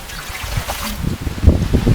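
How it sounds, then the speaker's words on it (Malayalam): About a litre of water pouring into a thick-bottomed pot, a close, loud rushing splash that grows fuller and heavier toward the end. "ഒരു ലിറ്റർ വെള്ളം ഒഴിച്ചു കൊടുക്കുന്നുണ്ട്"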